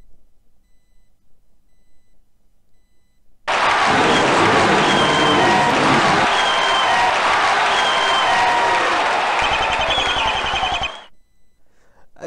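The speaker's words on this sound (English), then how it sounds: "it seems they are applauding" A courtroom crowd in a Phoenix Wright game breaks into sustained applause, loud and steady for about seven seconds with electronic beeps on top, then cuts off into quiet.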